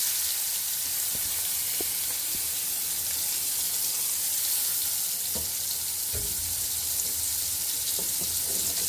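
Prawns fry in a little white oil in a wok, giving a steady, close crackling sizzle throughout with a few faint knocks and clinks, and no voices.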